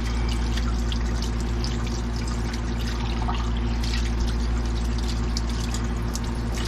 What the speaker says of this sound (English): And gotta wash this. Measuring cup.